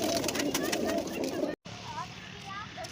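Soft pigeon coos repeat close by in a village, amid a busy background of chatter and rustling, with people talking over them.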